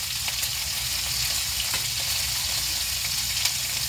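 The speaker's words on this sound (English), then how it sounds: "cast iron skillet loves to fry stuff" Pork chops fry in a cast iron skillet with a dense, steady, close crackling sizzle that runs unbroken throughout, with faint pops here and there.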